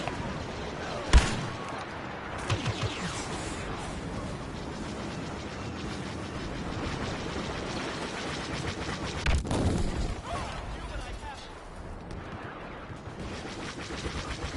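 Continuous loud shooting and mechanical rumble fill a video game battle as an enemy craft strafes the players' spawn area, with a few sharper bangs standing out over the steady din.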